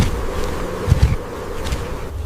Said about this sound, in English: But the insects keep coming back.